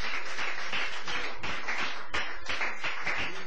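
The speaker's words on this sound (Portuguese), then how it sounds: "Pode se sentar e aplaudir Jesus bem forte, com as palmas de vitória bem alegre para Jesus." A church congregation claps together during a sermon, a dense continuous patter of many hands that fills the space, steady and fairly loud with a few sharper claps standing out.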